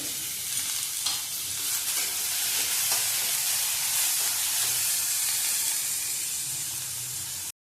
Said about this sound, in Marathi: भाजलंय यातच टोमॅटो टाकून भाजून घेऊया 1 मिनिट।